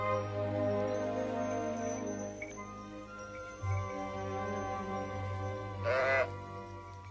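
Sheep bleat several times, some calls near and others farther off, with a quavering cry standing out late, over a soft steady background.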